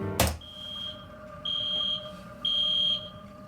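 A fire alarm sounds in three separate bursts of a high, steady electronic tone, each about half a second long, following a sharp click at the start, fairly faint and with no one talking.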